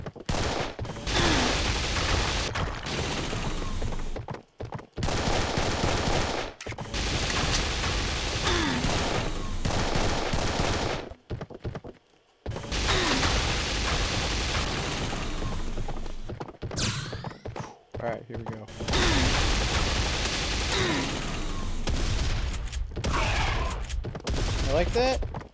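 Rapid bursts of gunfire from the video game Serious Sam 3, loud and dense with sharp thuds, broken by brief gaps, with someone talking over parts of it.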